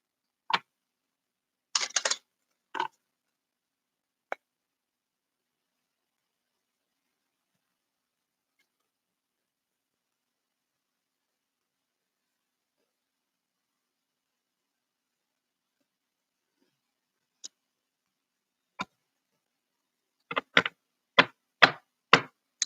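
Cards riffled and tapped in short bursts, separated by a long stretch of near silence, with a quick cluster of snaps at the end.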